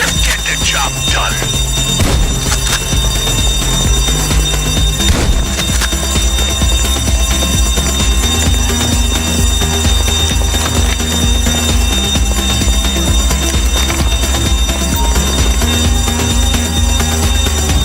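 An alarm ringing continuously in GTA 5, a steady electronic tone running the whole time beneath layered game music and ambience, with no talk.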